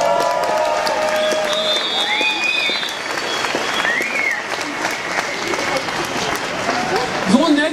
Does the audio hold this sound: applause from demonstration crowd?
yes